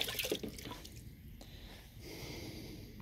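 Water poured over a wet banded iron formation rock specimen from Wyoming, a brief splash and drip at the start giving way to a faint steady trickle, quiet and close, with no speech.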